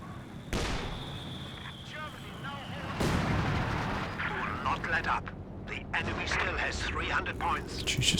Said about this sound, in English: rocket artillery.